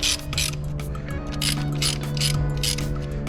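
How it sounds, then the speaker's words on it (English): Ratchet clicking in short quick bursts while torquing down camshaft bolts on a Nissan SR20DET engine, close up and fairly loud with a steady mechanical hum behind it. "You gotta do this nice and easy and kind of in sequence, torque them down"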